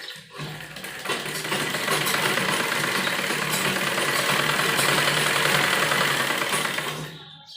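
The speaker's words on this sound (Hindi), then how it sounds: "तो सबसे पहले जो हमने गोलाई दी है उस पर सिलाई करेंगे।" A sewing machine stitches the curved sleeve seam of a kurti, running in one steady mechanical whir that ramps up, holds for several seconds and stops.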